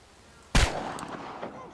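A single sharp gunshot from a hunting rifle fired at small game in the game Chernobylite, loud and close, followed by a decaying tail of ambient rumble.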